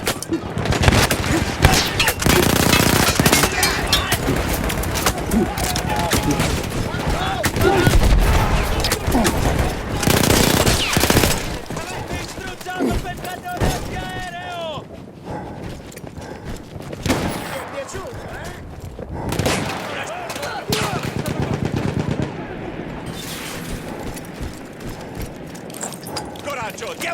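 Battlefield 1 mounted machine gun firing in long rattling bursts amid a World War I battle, loud and dense with pauses, while voices talk over the gunfire.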